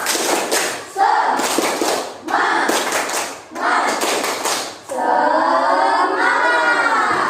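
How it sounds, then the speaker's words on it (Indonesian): A classroom group performs a rhythmic clap chant, several loud bursts of unison clapping separated by short pauses, followed by a voice speaking near the end. "Tepuk semangat."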